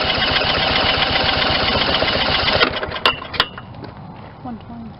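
Cordless drill cranking a lawn mower engine during a compression test, a fast loud rhythmic chugging that stops abruptly partway through, followed by a few clicks and clatters and a quieter tail.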